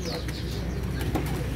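Spotted doves (terkukur) cooing at a bird shop, soft repeated coos mixed with other bird chirps and a brief flutter of wings, with people talking nearby.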